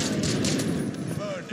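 Gunfire in Call of Duty Warzone, dense rapid bursts of shots over a busy, loud battlefield mix, with a voice speaking briefly in the background.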